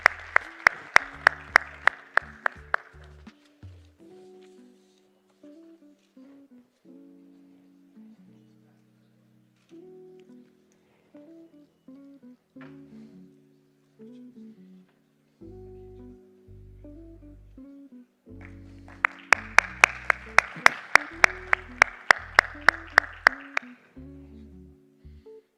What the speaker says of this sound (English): Ladies and gentlemen, a round of applause for the Saudi Exchange and the Jakarta Future Exchange.